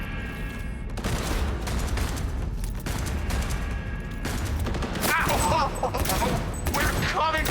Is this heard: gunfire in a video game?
yes